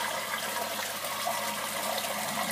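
Water in an aquaponics system pours down through a 90 mm biofilter pipe into a media bed, giving a continuous rushing, gurgling flow that stays fairly loud and steady throughout.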